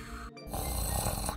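A video game character snores while asleep on an island: a loud, rough, drawn-out snore that starts after a brief pause and continues to the end.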